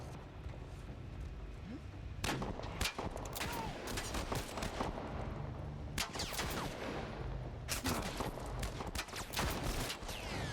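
Repeated bursts of gunfire from The Last of Us Part 1, sharp loud shots in irregular clusters over about ten seconds, mixed with in-game voices shouting.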